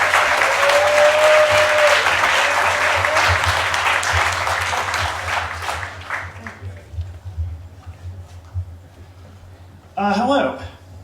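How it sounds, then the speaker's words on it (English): Audience applause for a Moth storyteller, loud and dense at first with whoops and voices mixed in, thinning into scattered claps before a short spoken greeting near the end. "Keep your applause going for your next storyteller"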